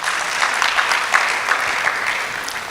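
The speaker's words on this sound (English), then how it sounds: "I think we should clap for that, please." A lecture hall audience claps steadily after a public talk on mental health awareness, an even, moderately loud patter of many hands with no voices.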